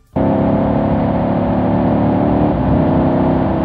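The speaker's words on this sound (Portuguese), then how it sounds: "E em um dos modos de direção do carro, ele emite som de um motor V8." An electric AMG car plays a simulated V8 engine sound through one of its driving modes: a loud, steady droning engine note that holds almost unchanged for several seconds, with no voices.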